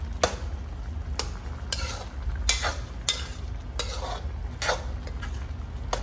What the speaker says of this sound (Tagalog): Haluin lang po natin.